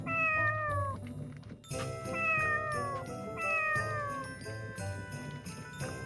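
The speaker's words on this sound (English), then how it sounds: "How'd you like my little feline family? Meow. Oh my god, look at all these kitties." Several cats meow in the PS2 game Tales of the Abyss, with overlapping, drawn-out calls in a hotel room over soft background music. There is no talking.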